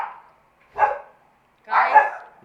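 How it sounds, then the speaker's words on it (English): Dogs barking at home during a live stream: two separate bursts of barking, moderately loud and fairly close, with quiet gaps between them and no talk. "My dogs are crazy."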